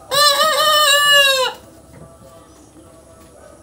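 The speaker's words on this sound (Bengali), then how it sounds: "মোরগগুলো ডাকাডাকি যে করে, প্রচুর ডাকাডাকি করে।" A rooster crows loudly and close for about a second and a half at a poultry farm in the evening, then only faint background noise remains.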